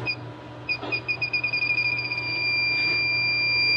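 Refrigerant leak detector checking an R-290 True cooler with oil at the leak, sending out steady high electronic tones that break into a quick run of pulsing beeps, fairly close and alone.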